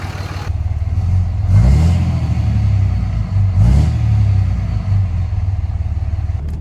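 Cummins diesel truck fitted with a 67mm billet turbo (rebuilt HE351) driving, a loud, close engine drone rising and falling through two revving pulls with a rough low rumble throughout.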